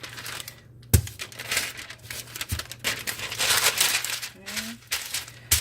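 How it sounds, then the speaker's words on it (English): Parchment paper crinkles and rustles as it is laid over a chicken-crust pizza dough, with sharp handling taps, a few crisp crumples and a brief voice in the background. "And then I'll cover it with another piece of parchment."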